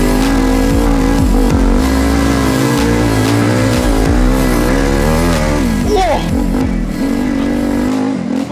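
A turbocharged dirt bike engine revs and accelerates hard, a loud, continuous close-up roar with rising and falling pitch sweeps; it runs the whole time and sounds over a faint voice.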